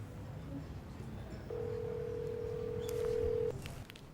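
A landline telephone is dialed, with a steady tone held for about two seconds and brief keypad beeps after it, all soft and close, over quiet room noise.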